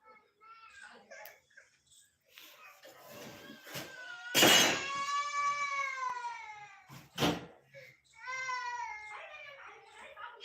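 A cat meows several times, loud drawn-out cries rising and falling, close by amid quiet background with faint talk in between.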